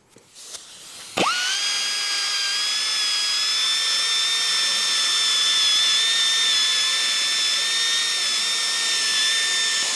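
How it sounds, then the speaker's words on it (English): Power drill cleaning burrs out of a bucket pin hole on a Ford 555, starting with a few knocks and then spinning up into a loud, steady high whine held for several seconds with no talking. "So I'm going to clean this hole up a little bit"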